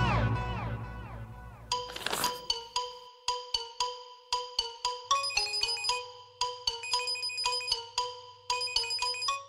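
A phone ringtone plays in a Marathi TV drama scene, a repeating bright electronic melody of short chiming notes in regular bursts, fairly loud and close, with no talking over it.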